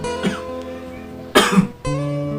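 A single harsh cough bursts out near the middle, surrounded by a steady tonal hum.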